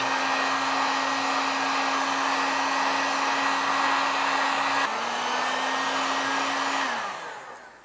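A heat gun blows steadily as it shrinks a sleeve over a crimped wire lug, making a loud, even hairdryer-like whir that dips briefly partway through and then winds down as it is switched off.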